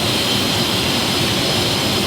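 A 2016 Kawasaki Ninja H2 supercharged motorcycle engine screams at high revs on a dyno during break-in, a loud, continuous roar held steady with no voices.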